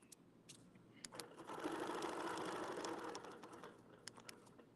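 A sewing machine stitches fabric toward the center of a quilted piece, its motor whirring in a single steady run of a couple of seconds, with faint clicks and handling taps before and after.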